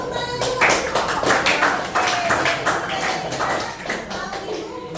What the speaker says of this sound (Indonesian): Betul jawabannya. Tepuk tangan dulu.